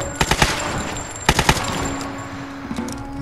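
Gunfire in the video game Lara Croft and the Temple of Osiris: two tight clusters of rapid automatic shots, followed by a few fainter scattered bursts.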